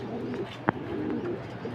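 A pigeon outdoors gives soft, low cooing notes under steady background noise, with one brief sharp click partway through.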